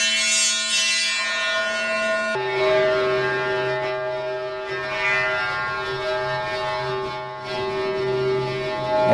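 A Mutable Instruments Elements synthesizer module using its blow exciter, droning a steady harmonic tone with a breathy edge that shifts pitch once and swells in brightness, loud and alone.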